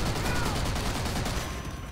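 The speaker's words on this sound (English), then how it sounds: "I thought I was shooting in the direction of the tank" Rapid gunfire from a Call of Duty: World at War shooter game, aimed toward a tank, forms a dense, continuous burst of loud shots with no pauses across the whole stretch.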